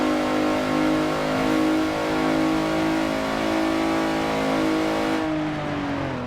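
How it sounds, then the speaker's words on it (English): A car engine in Forza Horizon 4 screams continuously at very high revs, pushed well past the normal shift point, holding a loud, steady, droning whine that dips slightly near the end. "I know you're over-revving it by quite a considerable amount."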